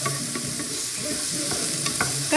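Onions and garlic sizzle steadily in a frying pan, with stirring scrapes and light clinks of a utensil against the pan throughout; close and fairly loud, no talking.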